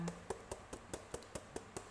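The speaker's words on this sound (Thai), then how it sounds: "พอเราเริ่มเคาะถาดเคาะถาดไปอย่างนี้นะคะเคาะถาดจนฟองอากาศมัน มันปูดขึ้นมาเนาะ" A baking tray of piped macarons is tapped repeatedly against a surface to release air bubbles, giving about ten even, sharp knocks in a steady rhythm, close and clear with no talk.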